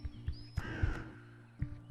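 A crow caws a few times in the video game Leaf Blower Co, harsh calls ringing over quiet, soft rhythmic game sounds in the background.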